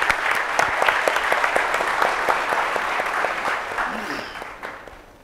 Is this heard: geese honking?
no